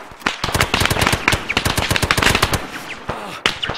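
Rapid bursts of close, loud automatic gunfire in a Foundation-themed shooter game, sharp cracks firing in quick succession for several seconds, then a few isolated shots near the end.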